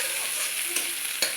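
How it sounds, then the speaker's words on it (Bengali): Raisins frying in hot oil in a pan while pilau is being made, giving a steady close sizzle with a couple of brief stirring clicks and no talking. "কিশমিশটাও একটু ভাজা করে নেব"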